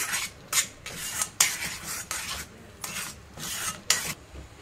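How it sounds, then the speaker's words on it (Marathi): Wood apple chutney being stirred and sautéed in a pan, with repeated rasping scrapes of a spoon against the pan in short bursts. "2 मिनिट आपण चांगली व्यवस्थित परतून घेऊया"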